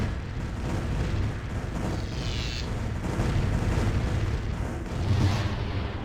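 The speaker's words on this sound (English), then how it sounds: "Pounding the station with our missiles." Missiles pounding a space station in the strategy game Distant Worlds, a steady rumble of muffled booms and impacts at moderate loudness, with a brief whooshing streak partway through and no talk.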